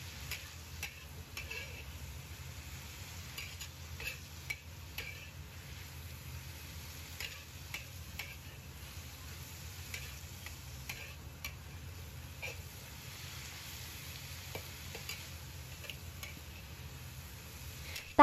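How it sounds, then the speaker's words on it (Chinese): Bean sprouts stir-fried over high heat in a wok with seasoning sauce: a faint, steady sizzle with light scattered clicks and scrapes throughout. "大火煸炒1分钟"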